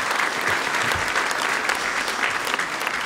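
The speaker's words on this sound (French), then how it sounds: "Et vous pouvez l'applaudir aussi" An assembly of hunters at a general meeting applauds a newly named spokesperson, a full, sustained round of clapping from a large audience filling the room without a break.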